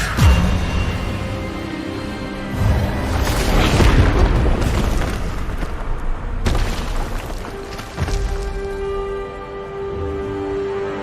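A spell blast from the wizarding game Hogwarts Legacy, a loud booming magical burst that rumbles and crackles for several seconds, then a second sharp impact followed by a ringing, sustained magical hum.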